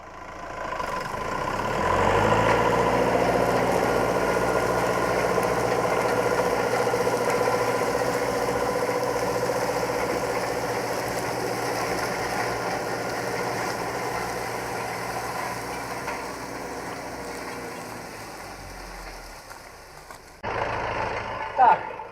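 A tractor drawing a BOMET 2.0 disc harrow through field soil gives a steady, loud engine drone with rumbling vibration, holding for about twenty seconds before cutting off, followed by a brief clunk.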